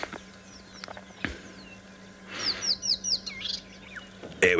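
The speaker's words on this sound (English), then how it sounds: "It was a rattling cisticola" A rattling cisticola calls outdoors at sunrise, giving a short burst of chirping, rattling notes midway, with a few fainter bird sounds around it over a soft background hum.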